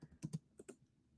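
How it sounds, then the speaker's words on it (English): Typing on a computer keyboard, a quick run of several sharp key clicks in two short clusters, close and fairly quiet, with no talk over it. "sorry, I'm typing something"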